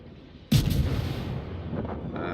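In a video game, a single loud, close gunshot cracks out sharply, then a booming reverberant tail rumbles away over the next two seconds.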